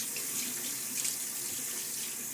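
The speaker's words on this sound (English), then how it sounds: "I wanted to rinse off some of the soap and the lather from the handle" A tap runs steadily into a sink while lather is rinsed off a shaving brush, a close, continuous rushing splash for a couple of seconds with no voices.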